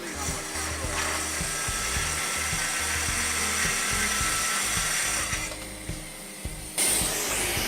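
A Festool TS track saw cuts through MDF with its dust extraction hose pulled off, giving a steady, loud whine and rasp with a rhythmic low thrum through the cut, then a brief change in tone near the end.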